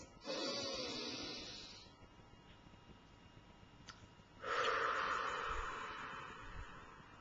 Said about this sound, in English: let me show you. Deep breath is this.